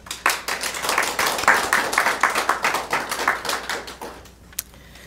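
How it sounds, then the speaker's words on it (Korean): A Korean church congregation at a Sunday service claps in welcome for members celebrating March birthdays, a close, rhythmic burst of sharp claps that swells, then thins and fades out with a last stray clap. "우리 박수로 환영하겠습니다"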